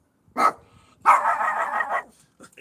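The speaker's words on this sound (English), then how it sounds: "No need to bark, is there?" A dog barks twice nearby, a short sharp bark followed by a longer, drawn-out bark or growl lasting about a second, then quiet.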